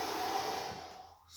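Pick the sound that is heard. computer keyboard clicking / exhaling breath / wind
exhaling breath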